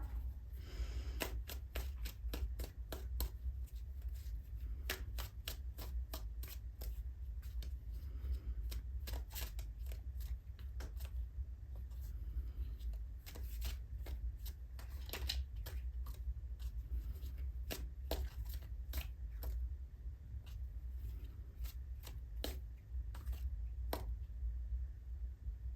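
Tarot cards are shuffled by hand in a quiet room, a long run of close, crisp riffling flicks and soft taps that repeat at an uneven pace and continue for the whole stretch.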